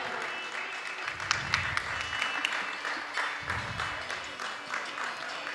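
Crowd applause at a singing contest, steady clapping from an audience greeting a junior-category winner, sustained for several seconds with a few sharper individual claps mixed in.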